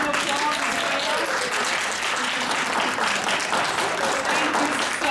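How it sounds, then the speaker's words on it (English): A workshop audience gives a round of applause, a dense and steady wash of clapping from many hands that fills the room evenly from start to finish. "Can we give them a round of applause?"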